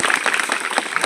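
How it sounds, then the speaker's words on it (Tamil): A crowd of listeners at a Tamil literary gathering in a government high school claps steadily, with dense, even applause filling the whole moment and no voices breaking through. "கைதட்டுங்களா?"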